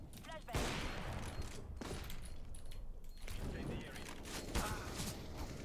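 Gunshots and rifle fire from Counter-Strike, with an M4A1-S or A4 in play, crack sharply at a few points over a steady busy game background while someone talks throughout.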